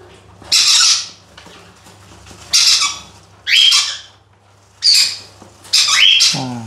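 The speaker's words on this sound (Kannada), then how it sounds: "ಸೊ ವೈಟ್ ಫೇಸ್ ಕಾಕ್ಟೈಲು ಅದರಲ್ಲೇ ಬಾಕ್ಸಲ್ಲೇ ಫೀಡ್ ಮಾಡ್ತಾಯಿದ್ದೀನಿ" A white-faced cockatiel squawks while being hand-fed in a box, giving five loud, harsh calls in an irregular rhythm with short quiet gaps between them, close up and with no talking.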